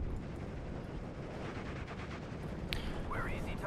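Distant gunfire and battlefield rumble in the World War II strategy game Steel Division Normandy 44, a continuous low din with scattered faint shots and reports, quiet beneath a speaking voice.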